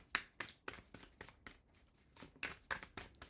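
Tarot cards being shuffled close up in a quiet room, with about a dozen quick papery riffling bursts in an uneven rhythm and a brief pause midway.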